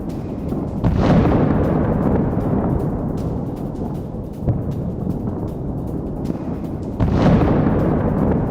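Explosions from an attack on Russian positions near an electronic warfare radar system in Kherson, heard as a sustained roaring rumble with two heavy booming blasts a few seconds apart, loud and close, with no voices.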